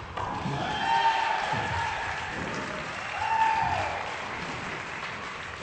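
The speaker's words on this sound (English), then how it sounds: "As Ben getting the crowd on his side with an excellent rally, 6-7." Crowd applause and cheering fill an indoor court at a racquetball semifinal in Tampa, Florida, rising in two bursts of clapping over a steady room murmur.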